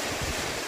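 Large ocean waves crash against a rocky shore at Cikeus beach in Sukabumi, a brief, dense roar of surf and wind with no voices.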